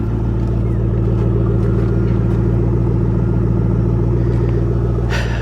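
A Roush 427R car engine idles close by with a loud, deep, steady rumble that holds evenly throughout, and a brief sharper noise comes near the end.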